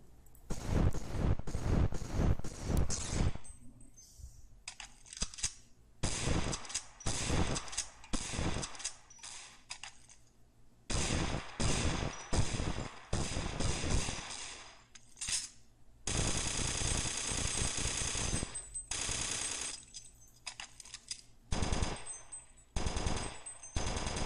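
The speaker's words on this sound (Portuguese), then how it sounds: "Agora vou mostrar a você como são os efeitos de tiro de algumas armas dentro do jogo." Gunfire effects from several weapons in a video game, sounding as loud automatic bursts and rapid volleys with short pauses between weapons, no talk.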